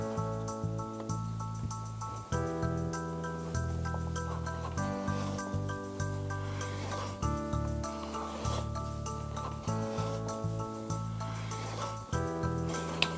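Knipex stripping tool turning around a cable's sealing sleeve to cut it, giving a steady, close rasping rub that repeats in rotational strokes under light pressure, alone without talk.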